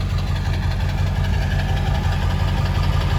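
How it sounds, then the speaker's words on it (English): A deep, rumbling truck engine with a 13-inch straight-pipe exhaust idles steadily and loudly close by, with a constant low throb and no talking. "That's the exhaust, guys."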